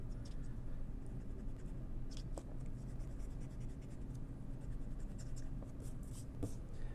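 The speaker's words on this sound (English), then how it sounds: "all I got to do is go back and erase my boundary lines" Pencil erasing boundary lines on paper while drawing a piecewise function graph, a steady close scratchy rubbing that continues throughout with a few sharper strokes.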